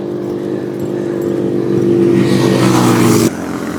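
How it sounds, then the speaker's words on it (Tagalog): Close, loud motorcycle engines drone and rumble in road traffic, swelling louder as they pass, then cutting off sharply to a lower hum. "Daming motor."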